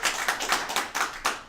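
Hands clapping in a quick irregular run of about six sharp claps, close and fairly quiet, with no voices.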